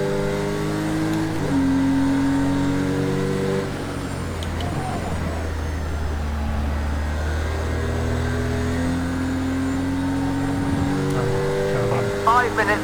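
A race car in Project Cars 2 accelerates at full throttle, its engine note climbing steadily and shifting through gears with a sustained drone.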